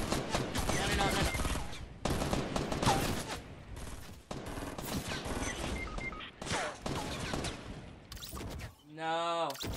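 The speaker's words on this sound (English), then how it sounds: "We're getting shot from both sides, man." Gunfire erupts in a Fortnite Battle Royale match: dense, rapid bursts of shots and automatic weapon fire crackle almost continuously, loud and close, broken by short gaps, with a game sound effect near the end.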